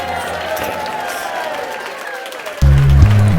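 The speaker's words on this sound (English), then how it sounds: "Alright, you can stop clapping now" Applause from a crowd before a Wreck-It Ralph versus Two-Face showdown, a dense clapping wash that fades slightly before a louder, low-pitched burst of other sound cuts in near the end.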